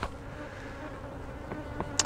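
Honeybees buzzing steadily around open beehives during queenless hive checks, a continuous close insect drone with a few brief louder passes near the microphone.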